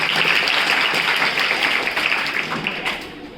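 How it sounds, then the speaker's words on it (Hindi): Students in a school classroom clap for a classmate at a Hindi fortnight opening ceremony, a dense, steady patter of many hands that fades slightly toward the end. "तालियां बजाओ उसके लिए पहले"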